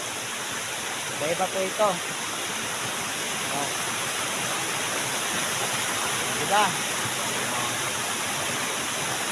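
Hagdan Hagdan Falls roars in a dense, steady wash of falling water, close and constant, while a voice speaks briefly over it twice.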